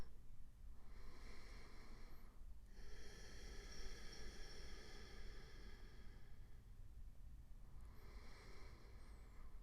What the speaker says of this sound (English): begin to apply your ujjayi breath if you haven't already. So create this smooth whispering sound in the back of your throat as you exhale.